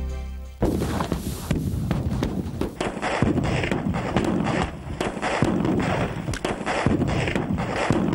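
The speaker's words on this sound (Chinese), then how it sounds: "也大胆地引用了这种爆破的特技效果" Pyrotechnic blast special effects prepared by a film and music-video fireworks crew, a rapid barrage of loud sharp explosions and cracks, repeated bangs overlapping in a dense fireworks-like volley after a short low-pitched lead-in.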